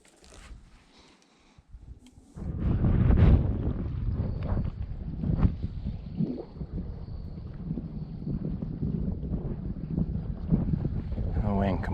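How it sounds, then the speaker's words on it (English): Wind sweeps over Lake Oroville at a drought-lowered shoreline, starting faint, then rising after a couple of seconds into a strong, continuous rumbling buffet against the microphone that carries on to the end. "The wind completely changed directions."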